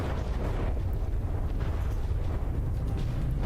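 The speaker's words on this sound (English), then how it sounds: "Shooting some shorter Hesh frag explosives." HESH frag explosive shells bursting in the video game From the Depths make a dense, continuous rumble of overlapping low booms and crackles that stays loud for the whole short stretch.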